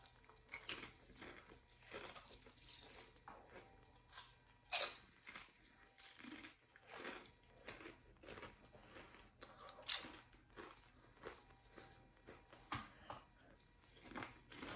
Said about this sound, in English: Man, can't stop eating these Doritos.